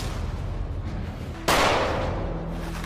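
A single sudden loud gunshot blast in a film scene, striking about halfway through against a steady low rumble and then trailing off in a long, fading decay.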